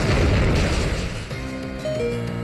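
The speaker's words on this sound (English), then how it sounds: "I do believe I went for the Explosion" Explosion move going off in a Pokémon Omega Ruby and Alpha Sapphire battle: a loud, dense boom with a rumbling blast in the first second, then settling into ringing game tones and musical blips.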